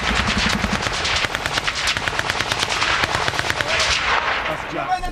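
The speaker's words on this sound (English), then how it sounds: "That loud explosion was the missile fired by the helicopter into the compound" Combat in a field compound in Afghanistan: a loud, dense burst of rapid machine-gun fire and blasts, including the explosion of a helicopter-fired missile striking the compound, continuous and close for about five seconds.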